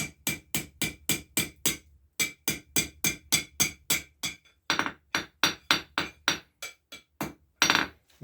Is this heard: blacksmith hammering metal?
yes